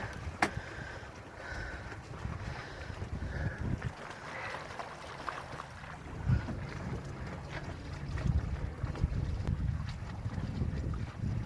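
The sailboat SV Pegasus is under way in the wind, giving a steady rush of wind buffeting the microphone over soft water and hull noise, continuous and moderately loud from start to finish.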